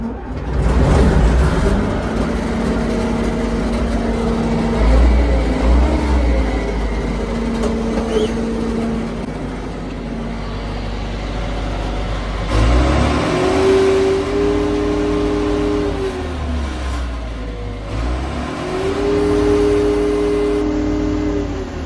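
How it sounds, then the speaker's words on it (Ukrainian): A John Deere 952 combine harvester's diesel engine idles and revs steadily, its low rumble rising and falling a few times as the throttle changes, close and continuous. "бачите, двигун працює супер"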